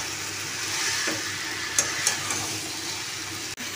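Meat and potatoes stir-fried together in a pan give a steady, close sizzling hiss, broken by a couple of brief clinks from the stirring.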